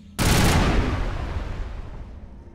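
A sudden, loud burst of weapon fire in the game Mass Effect hits hard and then trails off in a long, rumbling decay, with no voices over it.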